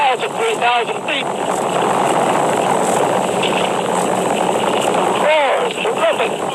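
Apollo 4 Saturn V rocket roaring at launch in November 1967: a continuous, loud, broadband rumble that holds steady throughout, with excited voices talking over it.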